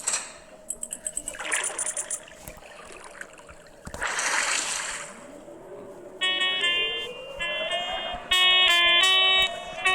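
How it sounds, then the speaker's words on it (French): Game sounds with water-like trickling and bursts of noise, then repeated electronic horn-like honking tones toward the end, fairly loud. "Je crois que ça attire les monstres d'ailleurs, le klaxon."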